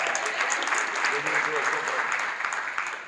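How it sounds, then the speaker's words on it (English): Audience at a One Chicago fan convention panel at Epic Cons Chicago giving a dense, continuous round of applause that stays fairly loud and even throughout. "Clap it up for the questions from the hat."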